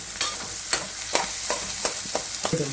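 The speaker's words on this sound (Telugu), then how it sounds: "సో ఇప్పుడైతే మనకి ఇవన్నీ బాగా వేగినాయి అనమాట. Deep fry." Vegetables deep-fry in hot oil with a constant bright sizzle, broken by a steady series of sharp stirring clicks roughly every half second.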